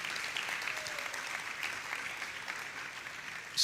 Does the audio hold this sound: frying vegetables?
no